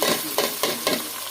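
Washed rice going into a pulao pot with hot spices gives a brief, loud sizzling rush broken by a few quick scraping stirs.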